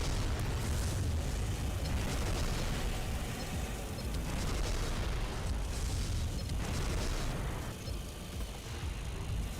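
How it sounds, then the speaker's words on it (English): A heavy, rumbling blast from a mine going off in the mech combat game Armored Core: Silent Line, a loud, sustained roar of explosive noise with rolling bursts lasting several seconds. "Did you just drop a mine on me?"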